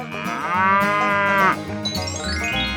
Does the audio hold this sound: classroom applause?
no